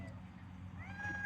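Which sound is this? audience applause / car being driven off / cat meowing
cat meowing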